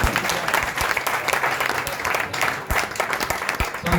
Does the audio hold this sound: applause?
yes